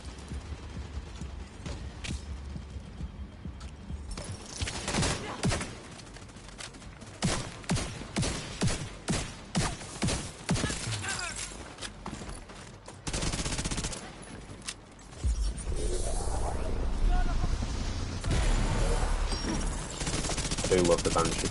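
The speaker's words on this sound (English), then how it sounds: "Turret is still hitting me, I'm gonna go down again." An enemy turret in The Division 2 fires long automatic bursts in rapid, repeated volleys, loud and close, with brief pauses between strings of shots and a player talking at times.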